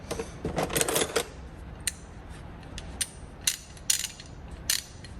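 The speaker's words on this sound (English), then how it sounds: "Here's a 1/2 inch Indestro ratchet." A worn 1/2 inch Indestro socket ratchet clicks through its pawl in quick bursts of metallic ticks, close and fairly quiet, with short pauses between the runs of clicks.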